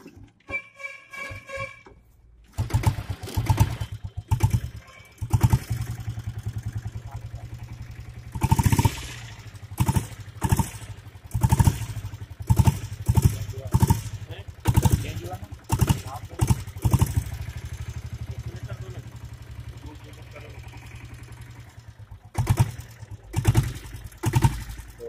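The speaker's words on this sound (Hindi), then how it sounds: "हाँ डीजल इंजन।" A diesel engine on a Royal Enfield Bullet motorcycle clatters loudly after a brief start, running with uneven bursts and knocking close by for most of the stretch.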